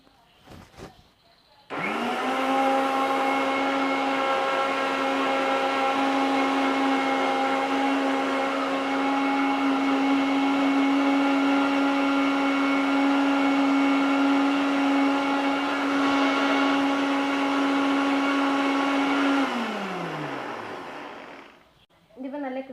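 An electric blender whips egg yolk mayonnaise, spinning up sharply to a loud, steady high whir that holds for about eighteen seconds before winding down and stopping.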